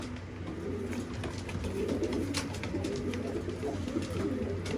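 Young pigeons in a breeding loft cooing, with soft repeated low coos in a steady rhythm, close and clear over faint background noise.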